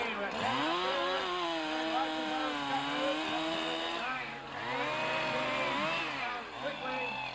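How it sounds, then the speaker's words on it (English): Chainsaw cutting through a log at a lumberjack show on Grouse Mountain, Vancouver, with the saw's engine howling steadily and rising and falling in pitch as the cut proceeds, up close and loud under crowd noise. "It takes a lot of practice to be able to balance on a pole like this using a chainsaw."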